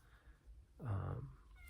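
A female cat lets out one drawn-out meow, close and fairly clear, rising then falling, in an otherwise quiet indoor room with no talking.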